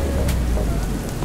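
Steady rain falls outdoors, a dense close hiss of drops on surfaces filling the short moment without pause.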